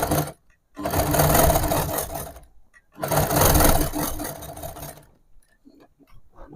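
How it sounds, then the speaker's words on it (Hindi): A sewing machine stitches baby frock fabric in two long, steady whirring runs with a brief pause between them, then stops; the sound is close and fairly loud, with no talking. "अब दोस्तों हमें अपने टाके को बड़ा कर लेना है और यहाँ पर हमें स्टिच करना है।"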